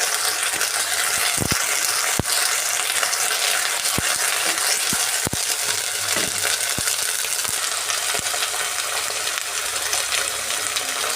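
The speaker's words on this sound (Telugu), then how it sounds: "ఈ అల్లం పేస్ట్ పచ్చి వాసన పోయే వరకు ఫ్రై చేస్తున్నామండి" Ginger paste frying in oil with browned onions in a pan for a flat bean egg curry, a steady close sizzle with occasional sharp clicks of a utensil against the pan.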